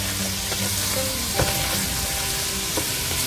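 Ox tripe stirred in a hot pan with fish sauce and oyster sauce, a steady close sizzle with scraping spoon strokes and a few sharper knocks against the pan.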